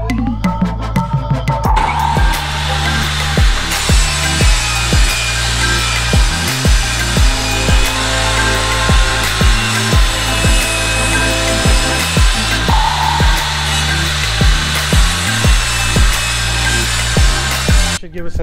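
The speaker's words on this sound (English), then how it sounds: "Here's our rip board, split that one in half, rip that one down at the same size." Power saw ripping a wooden board in half lengthwise in a farm workshop, a loud continuous cutting whine with repeated passes and short pauses between cuts.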